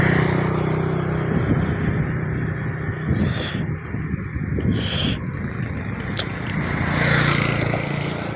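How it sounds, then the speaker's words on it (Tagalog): Cars passing by on a roadside, a steady loud rumble of traffic with swells as vehicles go past, some wind noise mixed in, and no talk. "May mga sasakyan kasi dito dumadaan"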